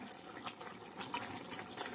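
Water pours and splashes into a pan of cooking chicken breast, a soft continuous trickle with faint sizzling, quiet and close with no talking.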